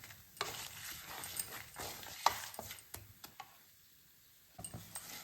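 Spices for puliyodharai roast in a pot while being stirred, a faint dry sizzle under quick scraping strokes and light taps that fall quiet briefly before resuming.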